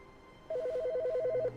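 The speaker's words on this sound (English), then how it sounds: "Oh, hey, a phone call." A telephone rings in The Stanley Parable: Ultra Deluxe, a bright electronic warble of rapidly alternating tones that starts abruptly and trills steadily for about a second over a quiet game backdrop.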